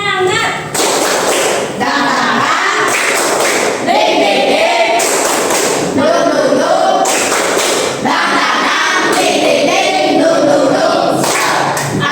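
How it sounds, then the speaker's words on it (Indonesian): A class on its feet performs the rhythmic 'tepuk semangat' clapping chant as an icebreaker, with loud group claps and thumps in a repeating pattern and students chanting along throughout. "Tepuk semangat."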